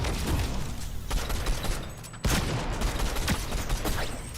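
Rapid laser gun fire in Fortnite rattles out as a dense, continuous burst of crackling shots, loud and close, with a sharp fresh volley about halfway through.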